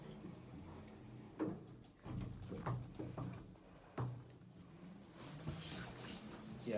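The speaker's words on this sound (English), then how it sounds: "Doors closing." KONE lift doors at a council city centre building slide shut with a few soft thuds and rattles, close and moderately quiet, with faint voices and movement around them.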